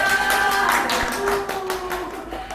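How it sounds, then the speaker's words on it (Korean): Guests at a first birthday party clap together in a steady patter of hands, fairly close and loud, with music tones underneath. "박수 만이 한번 더 주세요"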